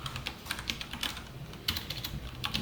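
Quiet clicking of computer keyboard keys while Python code is typed, irregular bursts of taps with short pauses, close but soft.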